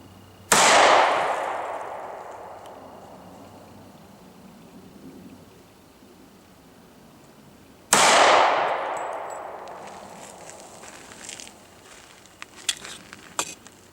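Two loud gunshots from an S&W M&P Shield 40 pistol at a shooting range, about seven seconds apart, each a sharp close crack with a long decaying echo, followed by faint clinks and handling noises.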